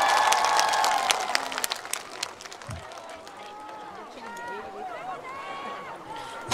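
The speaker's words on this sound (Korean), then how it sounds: "박수만 해주세요" Outdoor crowd at the Gimhae flower festival clapping along at a singer's concert, a burst of claps that fades early into a quieter murmur with voices and scattered sounds.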